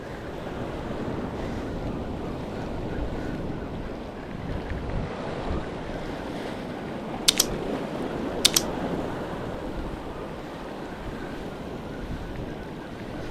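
Ocean waves wash steadily at a fishing spot, a continuous roar of surf and wind across the microphone, with two brief faint clicks partway through.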